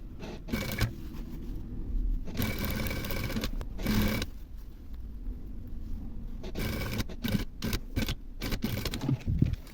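A sewing machine runs in several bursts of fast, even stitching, sewing decorative tape along the fold line of a jeans hem, with short quiet pauses between runs.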